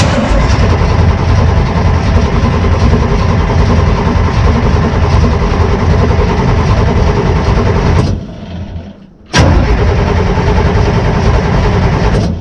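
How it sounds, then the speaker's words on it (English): A demolition derby car engine runs at a loud, steady idle close by, a dense continuous rumble that suddenly cuts out for about a second before catching and roaring back to the same level. "we'll go ahead and fire it up and keep an eye, make sure we get some oil pressure on there before I give it any gas"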